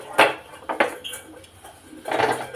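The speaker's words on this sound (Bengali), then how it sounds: "কড়া বসিয়ে দিলাম" A metal wok set down on a stove, with sharp clanks near the start, a second knock soon after and a further rattle toward the end, close and clear, with no speech.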